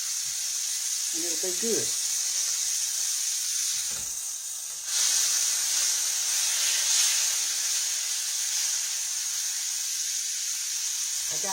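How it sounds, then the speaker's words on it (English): Steak frying in a skillet in a home kitchen, a steady loud hiss and sizzle that runs throughout, with someone briefly speaking over it. "So I just fry mine in the skillet."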